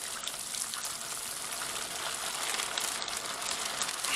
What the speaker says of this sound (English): adding water into this thing.